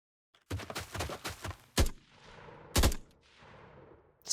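Video game gunfire in a Vietnam-era first-person shooter under development, a fast rattling volley followed by two sharp separate bursts, each with a trailing echo decay.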